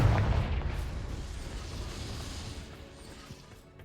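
A fiery Confringo spell blast in the Hogwarts Legacy game, a loud, deep booming explosion that hits at once and rumbles down over a few seconds.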